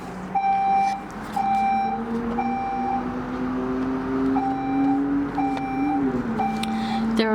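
A fire truck outside a large building lets out repeated short beeping tones over a steady engine rumble, with a rising and falling siren-like wail in the mix.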